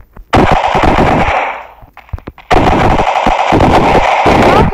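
Loud rapid automatic gunfire in the video game Pixel Combat FPS, two long sustained bursts separated by a short gap of scattered single shots, close and dominant with no talking.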